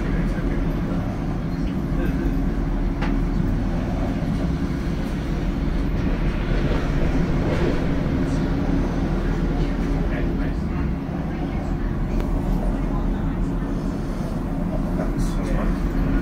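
A West Midlands Metro tram rumbles steadily along the rails with a constant low drone and faint rattles, occasionally under a recorded announcement voice.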